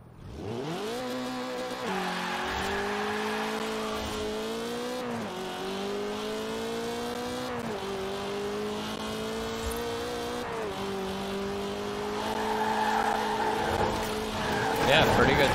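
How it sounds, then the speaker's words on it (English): A car in Forza Horizon 4 revs and shifts through several gears with rising engine pitch, and tire squeal joins in near the end. The sound is loud and steady, with a voice faintly audible under it. "Let's do a sound test."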